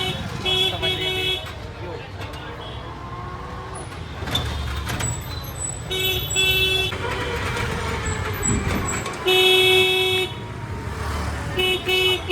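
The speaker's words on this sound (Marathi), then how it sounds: "हे उज्जैनच्या रोडवरलं ट्रॅफिक." Busy road traffic in Ujjain, with cars, buses and trucks rumbling past, repeated horn toots and an air-brake hiss, and people talking throughout.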